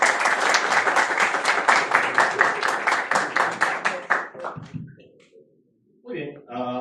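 Live audience applause welcoming a speaker onstage at a talk on building a data lake on AWS, dense steady clapping that fades out over about four seconds, followed by a brief silence and then someone speaking.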